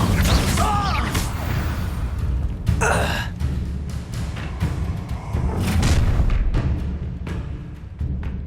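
Incendio fire spell cast in the Hogwarts Legacy video game, a burst of whooshing flame and booming magical impacts amid combat effects, with gasps and grunts from characters.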